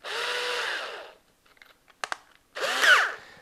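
A power drill fitted with a Phillips head screw bit whirs in two close, loud bursts of about a second each, separated by quiet clicks and handling noises.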